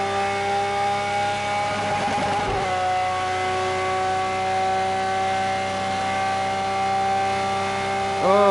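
A Lamborghini Veneno engine revs in the racing game Project Cars, holding a steady, loud multi-toned drone that rises in pitch near the start, drops abruptly, then idles evenly before a brief swell at the end.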